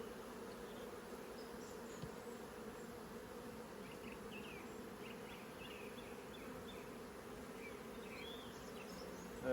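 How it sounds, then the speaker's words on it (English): Honey bees buzz close around a beekeeper's mask during a hive transfer, a steady, faint drone with occasional louder passes of single bees. "there's one bee at the front of my mask trying to get into me to sting me"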